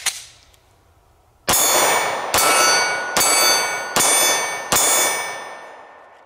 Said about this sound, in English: Let's take a few shots at our steel.